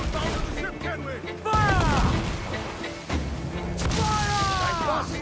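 Gunfire in Assassin's Creed Black Flag, bursts of booming shots and crashes at close range with loud impacts, mixed with game voices and chatter.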